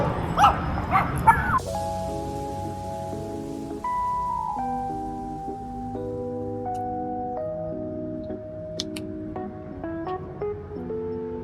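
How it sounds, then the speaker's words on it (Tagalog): Dogs at a campsite let out a few quick, close barks and yips at the start, then a stretch of sustained musical tones takes over. "nakawala na yung mga asong nangangagat."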